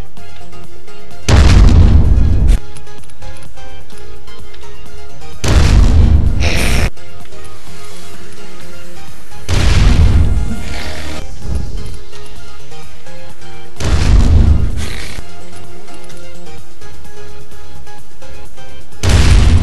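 A bomb in the video game Rainbow Six Vegas 2 goes off as a series of four loud, deep booming blasts spaced a few seconds apart, each with a rumbling decay, over a quieter game sound bed.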